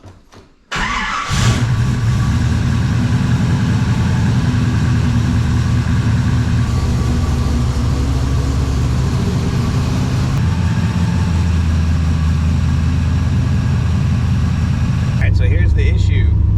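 A car engine fitted with an MSD Pro Billet distributor idles high around 1,300 RPM, a steady close drone that catches with a brief burst near the start and then runs evenly with little variation.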